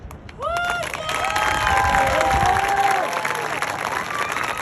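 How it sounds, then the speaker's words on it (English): An audience at a middle school spring concert at Owen's Grove applauds an 8th-grade trumpet trio, giving sustained, dense clapping with bright whoops and cheers rising over it, with no talk heard. "One more round of applause, please"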